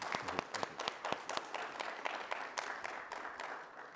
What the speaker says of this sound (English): please join me in another round of applause for Admiral